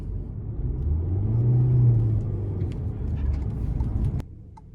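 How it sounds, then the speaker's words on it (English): A 2021 Toyota C-HR pulls away and drives on, heard from inside the cabin as a low, moderate engine hum that rises in pitch, eases off and then drops as it settles, with no talk over it. "Now taking off in the Toyota CHR."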